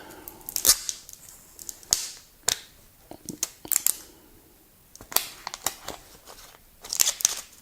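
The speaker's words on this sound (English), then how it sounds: "So let's unwrap it." Crinkly plastic and film being torn and peeled off the packaging of a Samsung Galaxy Z Fold 3 phone, sharp close crackles and rips in irregular bursts with quiet gaps between.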